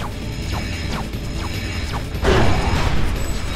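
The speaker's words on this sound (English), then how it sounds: "To extend the bridge, use the node crank." In the Ratchet: Deadlocked video game, a node crank extends a bridge: mechanical ratcheting and creaking clicks repeat, then a heavier clanking slide of the bridge mechanism swells in the final second.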